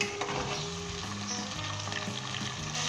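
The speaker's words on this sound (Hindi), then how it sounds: "चिकन को हम अच्छे तरीके के साथ 5 से 10 मिनट तक भूनेंगे इसे।" Chicken pieces fry with whole round red chillies for a Lahori qorma, a loud continuous sizzle with stirring scrapes and clinks layered over it, no voices.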